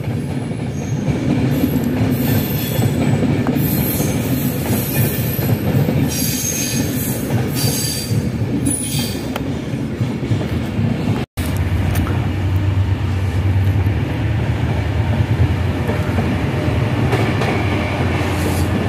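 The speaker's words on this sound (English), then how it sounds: "Train passing now is Avanti West Coast, number 390117" An Avanti West Coast passenger train, unit 390117, running from Glasgow Central to London Euston, passes loudly and close by with a sustained roar of wheels on rail, some squealing, and a brief break partway through.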